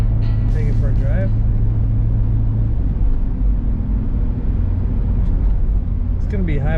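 A 1969 Ford Mustang Mach 1 R-Code being driven, its engine a steady low rumble heard from inside the car, with a brief higher whine near the start and again at the end.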